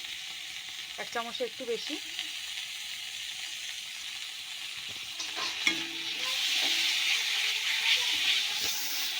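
Ground cumin and coriander paste hits hot oil in a pan, setting off a steady frying sizzle with stirring clatter early on, the hiss swelling louder in the second half while someone speaks briefly.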